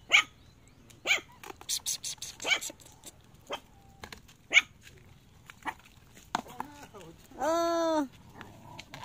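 Small dogs yap in scattered sharp barks, close by, with a drawn-out whine near the end.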